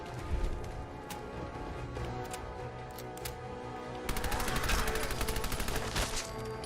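Guns fire in the game Fallout 4: scattered shots ring out over a low droning background, then a fast automatic burst rattles steadily near the end.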